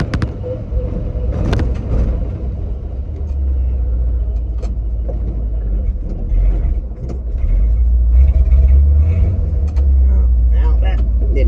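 A 1970 Ford 600 hay truck engine rumbles loudly and steadily while driving, with low drone rising slightly toward the end, rattles and shift clunks scattered over it and no voices.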